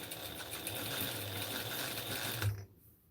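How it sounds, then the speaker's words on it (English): A sewing machine runs steadily, stitching a seam allowance down to a garment lining, a continuous close motor whir with rapid needle rhythm that stops abruptly near the end, leaving quiet. "I'm stitching the entire seam allowance to the lining."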